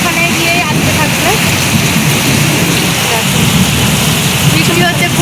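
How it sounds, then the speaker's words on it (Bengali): Steady, dense rain falling at night, a loud continuous wash of drops on surfaces close by, with a voice speaking faintly underneath. "বৃষ্টি হচ্ছে, খুব ভালো লাগছে বন্ধুরা।"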